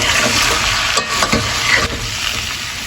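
Mixed vegetables and drumstick pieces stirred in a sambar pot, a steady close sizzle with scraping spoon strokes around one and two seconds, no talk.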